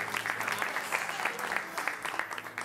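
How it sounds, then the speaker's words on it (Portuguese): A church congregation claps in steady, dense applause that holds at an even level for a few seconds, with a faint voice underneath. "vamos dar um aplauso pela Antonella, que não é Valentina"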